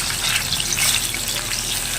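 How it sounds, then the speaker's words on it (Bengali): Hilsa fish fries in hot oil in a kadai, crackling and sizzling loudly and steadily, a dense spitting hiss with no voices. "দেখুন আমি ছাড়ছি মাছটা এটা কিন্তু বেশি ভাজা হবে না"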